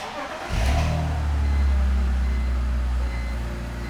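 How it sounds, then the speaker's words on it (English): A high-mileage BMW E46 engine runs steadily with a Liqui Moly engine flush in the oil, a loud, even drone that starts abruptly after a short quiet moment and holds for the rest of the clip. "Now we just run the car for 10 to 15 minutes and let it do its magic."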